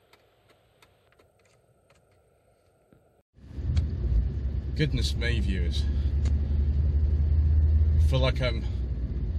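A 1991 Ford Fiesta 1.3 HCS engine starting up and driving, a steady loud low rumble with road and wind noise building in after a quiet start, while someone talks over it.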